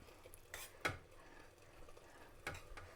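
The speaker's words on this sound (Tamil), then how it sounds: "இப்போ வந்து இந்த சோறை போட்டு இதுக்கெல்லாம் பிரட்ட போகிறோம்" A spoon stirs cooked rice into a tomato mixture in a pan, giving a few soft scraping clinks and shuffles over a quiet, faint background.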